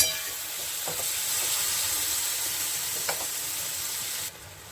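Ridge gourd and moong dal fry with spices in a pan, giving a steady, close sizzle with occasional stirring scrapes; the hiss cuts off abruptly near the end.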